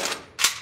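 A single sharp, loud gunshot cracks from a full-auto gun at a Las Vegas shooting range after a brief quiet lead-in, close and abrupt with a short decay.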